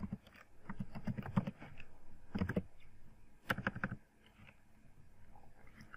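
Keystrokes on a computer keyboard while typing a JavaScript statement, coming as a few short quiet bursts of clicks separated by pauses.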